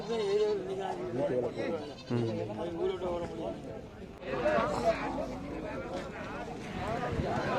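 Goats bleat repeatedly at a village Friday goat market where Tellicherry female goats are sold, the calls mixed in with steady nearby human chatter.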